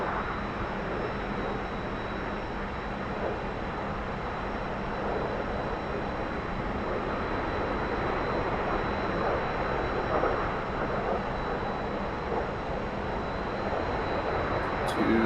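A T-45 jet trainer's engine in the DCS flight simulator game, a steady broadband roar that holds evenly for about fifteen seconds without pause.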